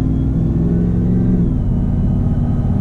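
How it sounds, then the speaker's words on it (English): Supercharged 700 hp Shelby F150 Tonka Edition truck accelerating, a loud continuous engine roar with a rising blower whine, heard from inside the cab, constant and dominant throughout with no talk. "That blower is intoxicating."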